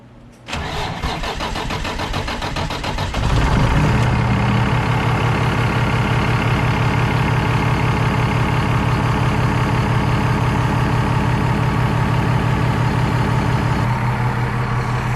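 An RV engine with a new muffler replacing a straight-pipe axle dump cranks briefly, catches and settles into a steady, deep idle with a low rumbling exhaust, close and loud, running on without talk.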